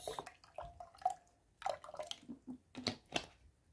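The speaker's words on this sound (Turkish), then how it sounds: "limonumuzun üzerine kendimiz hazırlamış olduğumuz sıfır şeker olan erik suyundan şöyle ilave ediyoruz" Homemade sugar-free plum juice poured over lemon, making quiet, intermittent splashes and drips in short bursts, with no talking.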